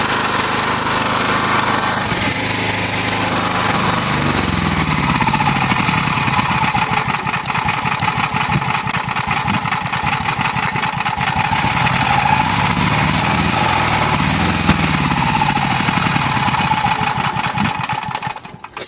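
A portable generator engine runs steadily and loudly up close, a rough continuous rattling drone with a rapid mechanical pulse, holding constant before dipping near the end.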